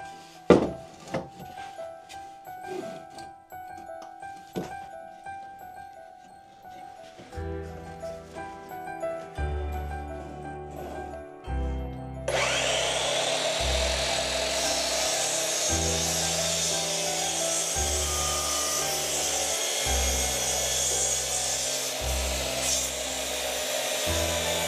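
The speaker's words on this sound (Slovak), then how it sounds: "Na pokosovej píle som si odrezal takýto hrubší hranol pod uhlom 45 stupňov," Workshop sounds of sporadic knocks and taps, then a miter saw spins up and cuts a thick wooden beam at 45 degrees with a loud continuous whine over steady rhythmic background music.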